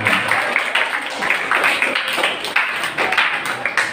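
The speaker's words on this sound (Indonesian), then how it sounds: "Saudara Yoga, kasih tepuk tangan loh ya" A school audience gives a student a short round of clapping. The claps come in uneven bursts, fairly near and loud, with the rhythm rising and falling.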